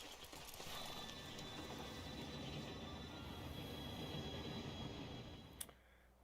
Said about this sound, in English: it's just a train going through